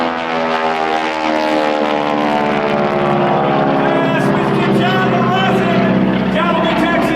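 An aerobatic propeller airplane taxis at the Arlington Fly-In air show, its engine droning loud and close with a throbbing, slightly shifting pitch, while a commentator talks over a loudspeaker.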